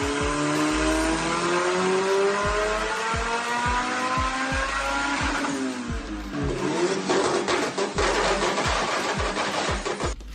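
A turbocharged Honda Civic with a B6 engine and big Precision turbo, exhaust exiting through the hood, revs hard in loud repeated climbing pulls, pitch sweeping upward then dropping, close and aggressive with rough rasping bursts toward the end.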